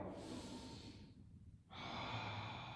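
A person stretching on a mat breathes in an exaggerated way, with a long audible exhale, a short pause and then a deep inhale. The breaths are close, soft and hissing, with no talk.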